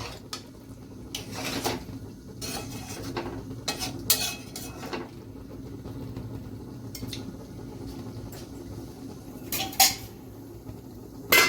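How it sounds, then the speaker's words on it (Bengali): A spoon stirs kabuli chickpea ghugni in a pot, making scattered scrapes and clinks of metal against the pot, some sharp and close, over a quiet background. "এবার ভালো করে মিলিয়ে দেব, মিলিয়ে দিয়ে এটাকে আবার আমরা ঢেকে রাখবো"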